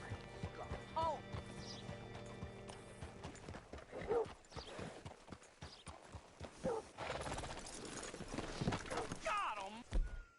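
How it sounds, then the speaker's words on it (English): Horse hooves clip-clopping and a whinny in Red Dead Redemption 2, irregular hoofbeats with a few sharp knocks and neighs, while voices talk intermittently over them. "Hitch your horse up here."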